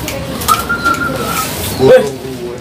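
A pigeon or dove coos softly several times in a short outdoor moment, the calls low and near, with faint background noise and a brief louder burst toward the end.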